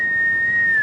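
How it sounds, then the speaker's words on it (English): A person whistles loudly on a single steady note that drifts slightly lower near the end, held for under a second over a low background hum. "I wonder how that whistle will translate."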